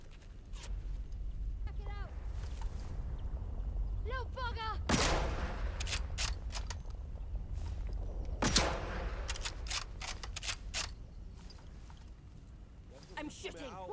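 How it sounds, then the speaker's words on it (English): Gunshots ring out in the video game Atomfall as several sharp, loud cracks scattered across the stretch, mixed with other scattered impacts over steady game ambience, while someone talks throughout. "I'm shooting."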